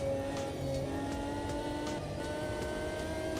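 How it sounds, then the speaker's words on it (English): A Lamborghini race car in the Automobilista 2 racing game, a steady loud engine drone with a thin high transmission whine running beneath it, sustained without pauses or voices. "Oh, I like the transmission whine as well, under the engine note."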